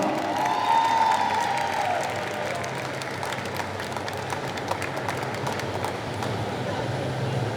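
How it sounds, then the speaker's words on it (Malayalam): Audience applause at a film trailer launch event, welcoming a child onto the stage; broad, steady clapping from a crowd over several seconds, fading slightly toward the end. "ആ ചക്കര കൊച്ചിനെ നല്ലൊരു കൈയടി കൊടുത്ത് സ്വാഗതം ചെയ്തേ"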